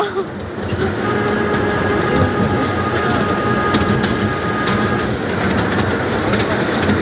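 A toy train runs through Deul Park in Bardhaman, giving a continuous rumble and rattle of the moving carriages heard from on board, with a few faint voices.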